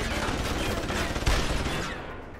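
Dense enemy gunfire in Deus Ex: Human Revolution, a continuous loud barrage of shots blending into a wash of noise before tapering off at the end.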